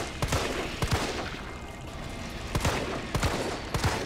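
Gunfire from shooting enemies in Resident Evil 3 Remake on PC, with several sharp bursts of shots at irregular intervals over a steady background of game noise and music.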